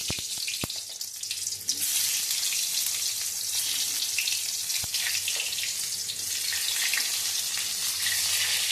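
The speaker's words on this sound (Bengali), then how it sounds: "এবারে আমি বেগুনগুলো এক এক করে ভেজে নেব।" Eggplant slices fry in hot mustard oil, giving a steady, bright sizzle that holds through the clip, with a couple of sharp clicks near the start and once more midway.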